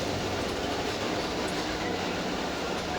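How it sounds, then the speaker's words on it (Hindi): The Sealdah Rajdhani Express rolls into a station platform with a loud, continuous, steady rumble of train wheels and carriages, heard close and without voices. "प्लेटफॉर्म नंबर 2 पर एंटर कर रही है सियालदह राजधानी एक्सप्रेस"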